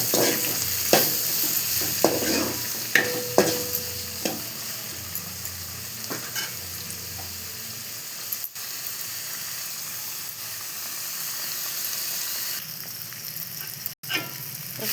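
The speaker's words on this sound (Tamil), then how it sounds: "இப்போ தக்காளி போட்டுக்கலாம். தக்காளி நல்லா வதங்கட்டும்." Tomatoes sauté and sizzle steadily in a hot pan for cauliflower fried rice, with a continuous frying hiss and a few scraping stirs of a spatula early on.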